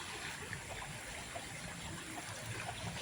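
A widening river flows in a steady, broadband rush that holds even and continuous throughout, with no voices.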